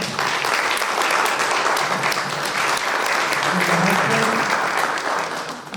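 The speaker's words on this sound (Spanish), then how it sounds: "Un aplauso, por favor" Steady, dense audience applause at a book presentation, many hands clapping continuously at an even loudness for several seconds before tapering slightly at the end.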